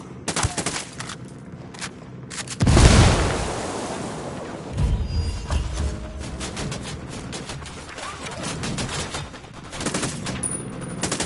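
Grenade explosion in Ghost Recon Wildlands, a loud close boom with a rumbling tail rising out of scattered rapid gunfire, more shots and crackling continuing afterward.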